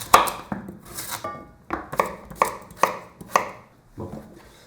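Knife chopping through a potimarron squash on a board, a series of sharp, evenly spaced thuds close by, about eight cuts with short pauses between them.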